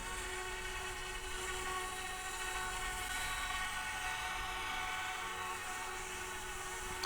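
Steady high-pitched whine of the rotors of an Eachine E135 small RC helicopter taking off and hovering, constant and fairly close, holding a level buzzing drone throughout with no voices.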